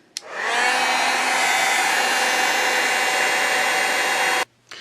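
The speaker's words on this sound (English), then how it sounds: "I am going to just hit this with my heat tool again" A craft heat tool blows steadily for several seconds while drying a textured paper tag, a loud constant whooshing hum that starts abruptly and cuts off near the end, with no talking.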